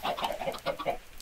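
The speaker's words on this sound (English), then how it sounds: "there is a baby water chicken" Chickens from the Minecraft MuchMore Chickens mod cluck in a quick run of short, close, nasal calls over about a second, with no talk.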